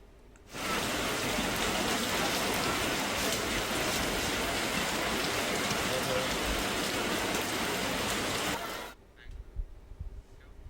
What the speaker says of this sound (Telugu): నిన్న హైదరాబాద్ లో కుండపోత వాన పడింది.